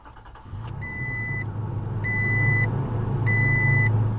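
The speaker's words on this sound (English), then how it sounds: "with my foot on the brake, it's time to start it up." A 2021 Toyota Tacoma TRD Off-Road cranks and fires up, settling into a steady idle heard from inside the cab, while three evenly spaced electronic chime tones sound over the engine.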